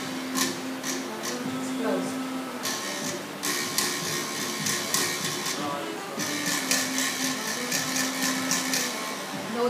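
A bungkaka, the Philippine bamboo buzzer from the northern Philippines, is played with its closed sound, giving a steady rattling buzz broken by repeated sharp strikes throughout, with a voice faintly present beneath.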